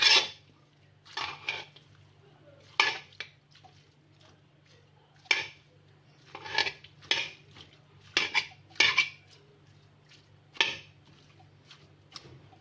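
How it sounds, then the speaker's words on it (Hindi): Halwa being served out of a pan, with a spoon scraping and clinking against the metal in irregular bursts of a dozen or so strokes, close and crisp over a faint steady hum. "अब हम चूल्हा बंद कर देंगे और इसको डिश आउट करेंगे"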